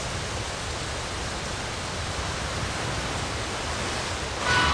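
Steady broadband wind and sea rush on open water in Like a Dragon: Pirate Yakuza in Hawaii, an even hiss that swells slightly louder near the end.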